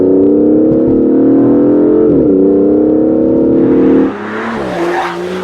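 Aston Martin DBS engine revving in sport plus mode, a loud, sustained close roar that climbs steadily in pitch, dips briefly, then shifts to a harsher, rougher tone near the end.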